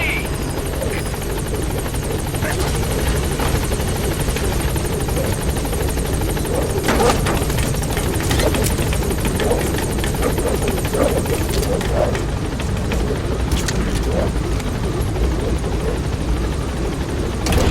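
In the Metal Gear Solid 5 video game, a helicopter arrives at a landing zone, its loud steady rotor thrum and engine whine filling the scene, with radio voices speaking over it.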